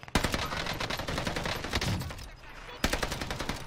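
Rapid bursts of STG 44 assault rifle fire in a World War II shooter video game, fitted with a muzzle brake rather than a silencer, crackling loudly and almost continuously before a short pause and a fresh burst.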